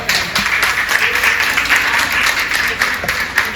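Loud applause from an audience at a women's day celebration in a residential society hall, sustained clapping filling the whole moment, with no voices over it.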